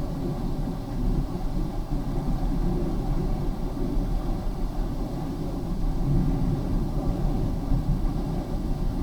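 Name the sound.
1993 Ford Taurus engine at full throttle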